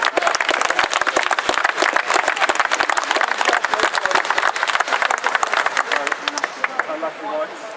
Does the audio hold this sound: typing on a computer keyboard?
no